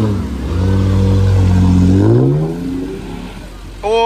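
Off-road trophy-sprint cars racing through deep mud, engines revving hard and climbing in pitch as they accelerate past, loud and close, with a commentator talking over the roar.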